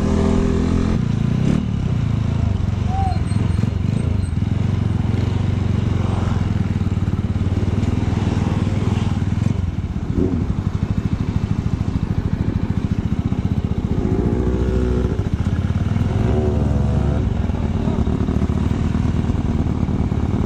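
A motorcycle engine rumbles loudly and continuously nearby, with rattling and scraping over its steady drone.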